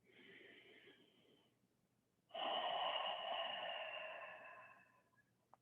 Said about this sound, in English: One more breath and make it an open mouth exhale.